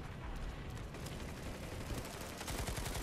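Dense, continuous gunfire rattles throughout a Planetside 2 firefight in a biolab, rapid automatic shots blending into a steady wash of battle noise at moderate volume.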